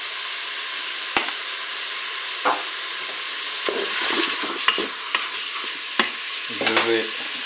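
Onions and garlic frying in a Cookeo pot, a continuous sizzle broken by a few sharp utensil taps and stirring scrapes, no speech.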